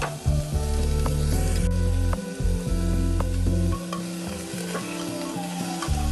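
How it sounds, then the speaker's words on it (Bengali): Chopped onions fry in a pan with very little oil, giving a loud, continuous sizzle while a utensil scrapes and stirs them in short strokes, close by with no talking. "এবার পেঁয়াজ দিয়ে ওটার মধ্যে নাড়াচাড়া করে নিচ্ছি"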